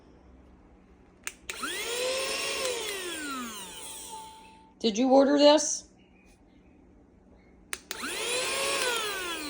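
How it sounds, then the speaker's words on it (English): A mini vacuum cleaner switches on with a rising whine, runs steadily for a few seconds and winds down; a short voice breaks in, then the small motor whirs up again, close and loud. "Someone sent a mini vacuum."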